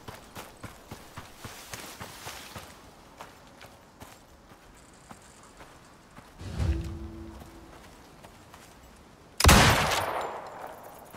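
Gunshots in the video game Icarus, fired at rock or tree, with a quiet run of rhythmic footstep-like thuds, then two separate louder sharp reports, the second a bright crack that is the loudest moment.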